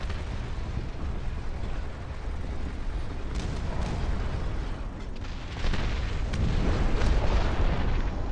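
Heavy booming cannon fire from a triple-barreled giant tank in a video game demo, a continuous dense rumble of overlapping blasts that swells louder toward the end, with no talking.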